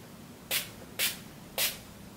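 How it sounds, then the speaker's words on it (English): Three short hissing bursts from a cosmetic face mist spray bottle, evenly spaced about half a second apart, close and fairly loud against a quiet room. "Let's just spray this to see how this feels on the skin."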